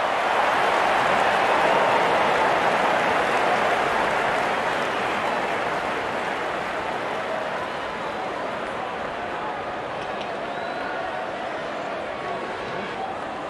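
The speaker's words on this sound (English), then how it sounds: "The crowd is enjoying every bit of this action." A stadium crowd in the cricket video game Real Cricket 24 roars continuously, a loud, dense wash of cheering that fades slightly over time, with commentary voices mixed in.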